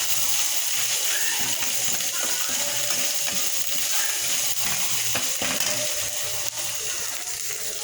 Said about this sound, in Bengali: ভালো করে নাড়বো।